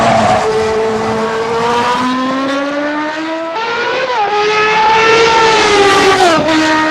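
A 1992 Lotus 107 Formula 1 car in Assetto Corsa screams through a replay lap, its high-revving engine climbing steadily in pitch, dropping abruptly at gear changes and rising again, loud and close throughout.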